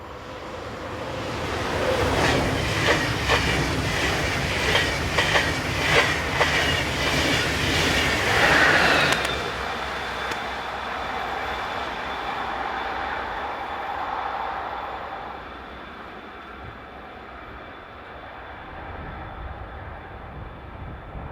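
A BLS electric train rounds a curve on the Thun–Kandersteg line near Frutigen, Switzerland, its loud rhythmic clickety-clack and wheel noise rolling steadily close by before easing into a sustained fading rumble with a faint high whine.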